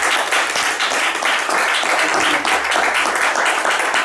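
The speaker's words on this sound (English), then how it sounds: "I think this would be an appropriate moment for applause for Fred." Audience applause for jazz pianist Fred Hersch at the end of an onstage interview at a jazz festival, a dense, steady wash of clapping throughout.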